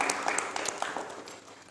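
An audience at a campus podcast talk event gives brief applause, heard as scattered claps over a steady crowd wash.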